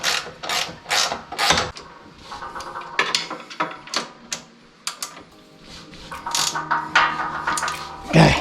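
A ratchet tightening a part on a BadBoy ZT Elite Limited zero-turn mower, giving bursts of quick clicking pawl strokes with metallic clatter in between, close and fairly loud.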